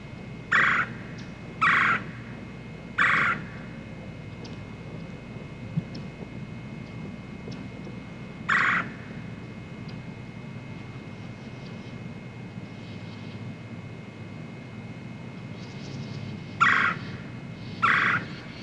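A turkey hen call, likely a hunter's imitation during a spring turkey hunt, sounds as short sharp yelps spaced out over a steady low outdoor hum, loud and close.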